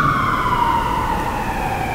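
Emergency vehicle siren wailing steadily throughout, a loud continuous tone slowly sliding downward in pitch, with no talk over it.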